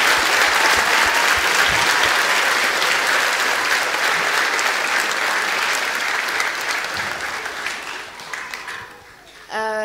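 A church congregation on Easter Sunday claps loudly and continuously for those being baptized, a dense, sustained wash of applause that thins and fades in the final seconds.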